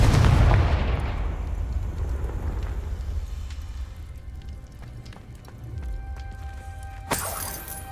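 An explosive blast from the Confringo blasting spell in a Harry Potter video game: a loud, booming burst that rolls and rumbles, fades into a low crackling tail, then ends in a short sharp crack.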